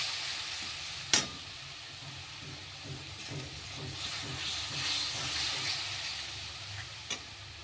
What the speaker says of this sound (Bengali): মশলা কষছে